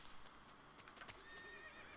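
A horse in the Metal Gear Solid 3 video game whinnies and its hooves clip-clop, faint and brief against a soft ambient background.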